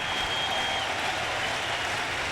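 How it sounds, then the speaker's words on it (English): Stadium crowd at the 2000 Home Run Derby in Atlanta applauds a home run, a steady, dense wash of clapping and cheering from a large audience, loud and continuous throughout. "Carl Everett stands up, gives him a standing ovation"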